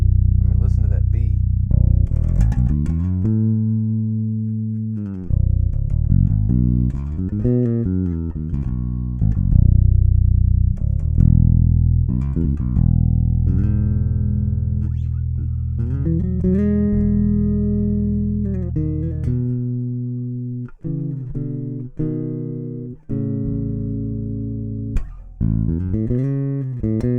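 Deep, full bass guitar notes through a Khan Audio VTDI preamp ring out one after another, some sustained and some sliding, played alone and loud with a warm, rounded tone.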